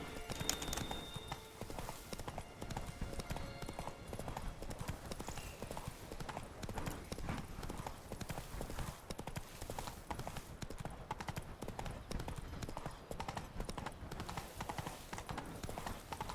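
Roach, a horse in The Witcher 3, trots with steady, rhythmic clip-clopping hooves close by for the whole stretch, joined by a brief whinny near the start and only faint traces of a voice.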